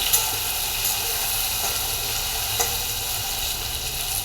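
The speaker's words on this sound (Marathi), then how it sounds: "आता आपण सगळी वांगी सोडली आणि त्याला तेलाने चांगलं कोटिंग करणार आहोत" Brinjals dropped into hot oil and stirred to coat, giving a steady bright sizzle with a few soft scrapes of the spoon, close and constant.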